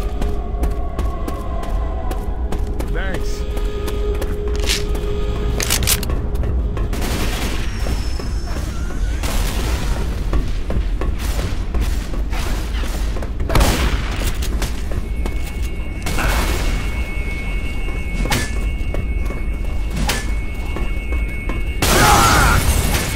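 Left 4 Dead 2 gunfire on the Black Mesa Undertow map comes in repeated sharp bursts and booms over a dense, noisy game soundscape, with occasional louder shots near the end.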